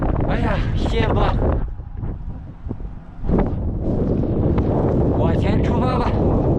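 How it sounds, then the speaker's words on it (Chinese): Strong wind buffets the microphone during an outdoor bicycle ride through open countryside, a loud, gusty rumble with a voice talking over it. "骑行最怕的就是大风。"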